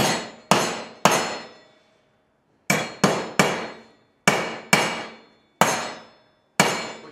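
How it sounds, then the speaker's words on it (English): A hammer strikes the wood tang on a 4-inch square metal junction box with a wood spike vertical bracket, landing nine sharp, loud ringing blows in irregular groups of two or three with short pauses between. "grab your hammer, and strike the wood tang"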